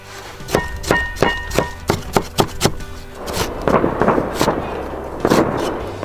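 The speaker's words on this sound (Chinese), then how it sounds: "快过年了，那个鞭炮声也响起来了" Firecrackers going off for the approaching New Year in a rural setting, a rapid run of sharp cracking bangs early on, then scattered louder, more distant-sounding pops and booms, with no talk.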